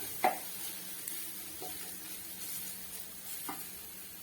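Prawn masala with turmeric and chili fries in a pan, giving a soft, continuous sizzle punctuated by a few brief clinks and scrapes of stirring.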